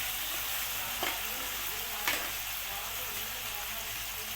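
Palak chana dal, chana dal with spinach, stirred in a pan in dhaba style: a steady, fairly loud frying hiss runs throughout, broken by two brief scraping knocks of the spoon.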